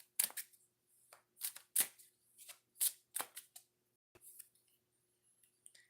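Oracle cards are shuffled for a one-card reading, a series of quick crisp riffling and slapping bursts at close range in a quiet room, each lasting a fraction of a second with short pauses between.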